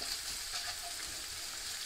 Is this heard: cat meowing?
no